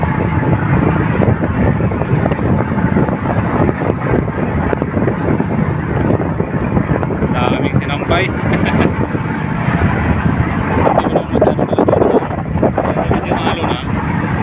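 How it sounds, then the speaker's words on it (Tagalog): Strong wind roars and buffets the microphone continuously during a storm, with a voice speaking briefly over the gusty rush. "Lakas ang hangin."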